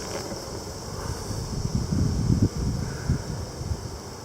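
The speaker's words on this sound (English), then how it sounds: "kind of windy" Low, gusty wind buffets the microphone in uneven rumbling bursts at an open beehive, swelling in the middle and easing off.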